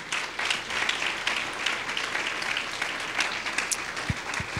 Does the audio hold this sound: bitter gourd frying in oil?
no